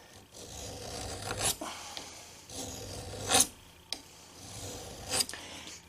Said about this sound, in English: a slow draw filing process